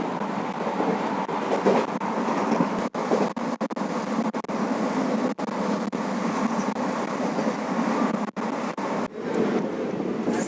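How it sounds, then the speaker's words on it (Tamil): A passenger train between Coimbatore and Palakkad Junction rushes along at around 106 km/h, giving a steady, loud, dense rumble of wheels and wind with brief dropouts and faint rhythmic clatter, with no voices. "ட்ரெயின் பார்த்திங்கன்னா பட்டை கிளப்பிட்டு போய்ட்டுருக்கு. பயங்கரமான ஸ்பீடு."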